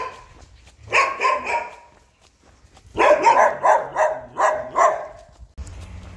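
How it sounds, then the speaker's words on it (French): Dogs barking outdoors along a walking route near Caselette, one short burst of barks followed after a pause by a longer, louder run of repeated barks, fairly close and with no talk. "Il y a les chiens aussi."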